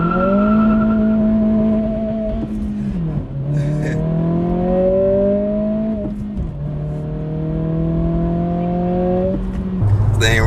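A 2023 Acura Integra accelerates hard in a 0-60 run, its engine note climbing steadily through several gears with clear dips at each shift, loud and close, with brief tire chirp.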